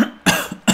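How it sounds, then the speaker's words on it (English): Harsh coughing fit from someone commentating a Blood Bowl 2 match, with two or three loud, close bursts separated by brief pauses and no talk. "I'm just going to be muted as I cough my guts out"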